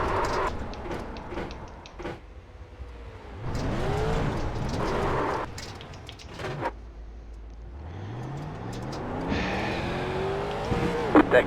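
Street stock race cars roar around Charlotte Motor Speedway in a close-range onboard run, engines rising and falling through laps with sweeping pass-by sweeps, brief tire squeal and steady heavy drone.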